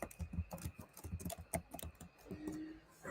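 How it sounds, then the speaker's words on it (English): Rapid, light clicking of keys being typed on a computer keyboard, an uneven burst of close taps lasting a few seconds with no talking. "Let's type something else in."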